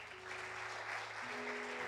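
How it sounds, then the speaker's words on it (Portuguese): A congregation at a Baptist church evening service applauds, a quiet, steady patter of clapping with held keyboard chords shifting underneath. "aplauda o Senhor."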